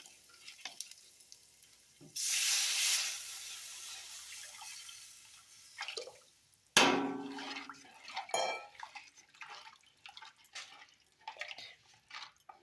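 A burst of loud sizzling as spinach rasam is poured into hot oil tempering, fading gradually, then a sharp crackle and scattered stirring and dripping noises.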